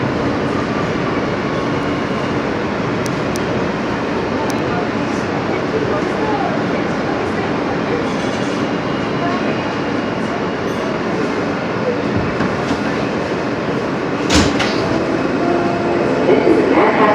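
An R160B N train on the New York subway rides toward Manhattan, a steady loud rumble with clickety-clack and brief squeals, while an onboard announcement voice speaks over it.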